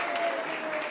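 An audience at a church sermon claps briefly in a soft, steady patter of applause, moderately distant, lasting under a second.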